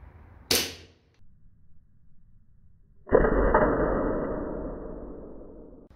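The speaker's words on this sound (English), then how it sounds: "The first gun will be this Colt 1911 with 6mm plastic BBs." Colt 1911 airsoft pistol shooting 6mm plastic BBs into an apple: a sharp near snap of the shot, then a few seconds later a louder thud-like burst that rings and slowly fades.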